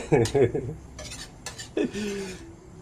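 A spoon scrapes and clinks against a pan while hot mushroom and chicken curry is stirred, several short metallic knocks and scrapes, close, with a few brief spoken words between them.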